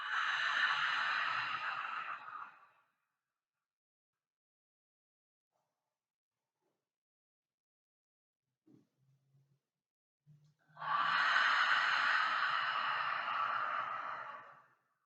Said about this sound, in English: Breathing out, making a hissing sound from the breath, stroking the back of your throat.